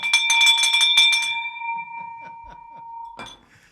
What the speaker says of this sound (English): Ring that bell, baby.